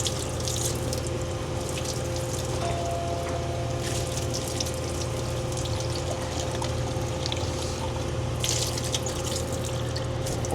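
Water runs steadily from a tap while a coffee cup lid is washed under it: a continuous close splashing pour with small trickling shifts and no voices.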